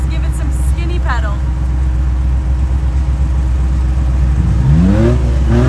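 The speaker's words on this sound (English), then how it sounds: "You hear revving in front of me, revving behind me." Loud engine drone with several off-road vehicles revving while wheeling through mud and rocks in Missouri, pitch rising and falling, one climbing sharply near the end, under constant rumbling.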